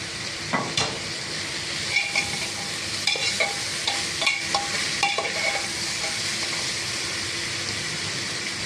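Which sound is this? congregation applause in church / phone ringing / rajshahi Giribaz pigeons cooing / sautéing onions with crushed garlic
sautéing onions with crushed garlic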